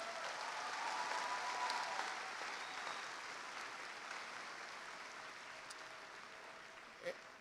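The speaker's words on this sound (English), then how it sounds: "Can we give those individuals behind the scenes a round of applause?" Sustained audience applause fills a high school commencement gathering at Lindbergh High, a dense, steady wash of clapping from a large crowd that gradually tapers off.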